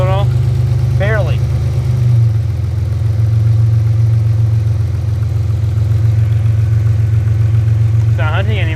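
A car engine with a throttle fault idles steadily, a low constant hum that steps up slightly about two seconds in, with brief speech near the start and again near the end.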